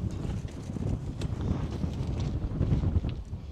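Wind gusts across the microphone in the mountains of Mendocino, California, with a continuous low rumble and buffeting, loud and close, with no voices.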